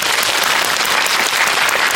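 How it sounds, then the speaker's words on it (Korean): A packed cinema audience at a film's guest visit, Yongsan CGV screen 1, claps loudly in a dense, sustained burst of applause, close and continuous for the whole stretch. "박수 한번 보내주세요."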